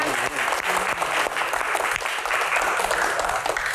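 An audience breaks into dense, sustained applause at a televised talk show, the clapping loud and steady for nearly four seconds.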